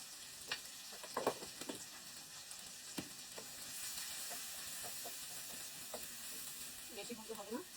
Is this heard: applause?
no